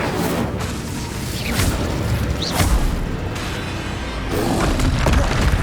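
Fiery spell blasts burst out in a Hogwarts Legacy duel, a string of loud booming impacts and crackling whooshes piling up over several seconds with dense rumbling low end and no spoken voice.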